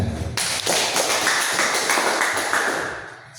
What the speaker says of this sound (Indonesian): Kita berikan tepuk.